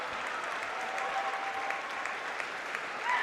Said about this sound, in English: You can hear the crowd applauding the Wheel Blacks as they leave